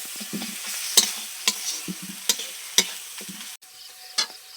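Chilli powder masala frying in a pan in a village kitchen, a quiet sizzle under intermittent spoon stirring, with a series of sharp metallic scrapes and taps against the pan at irregular intervals.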